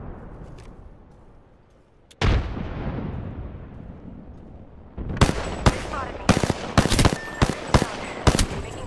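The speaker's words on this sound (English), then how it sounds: "Throwing frag." A frag grenade blast in Apex Legends ranked arena booms loudly and rumbles as it fades, followed by rapid bursts of close gunfire.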